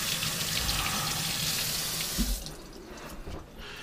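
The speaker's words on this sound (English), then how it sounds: "Rinse these off before I start because they've been sitting out on the counter." A kitchen tap runs loudly into a sink as vegetables are rinsed under it, a steady rushing splash that drops off and thins toward the end.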